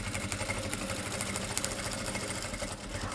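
A sewing machine stitches patchwork fabric for a Christmas garland, giving a steady, close, fairly loud mechanical whir with fine rapid ticking throughout, alone and without voices.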